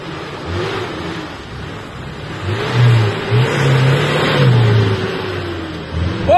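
A car engine revs up and surges repeatedly under throttle, loud and close, the mid-pitched roar rising and falling over several seconds without talk.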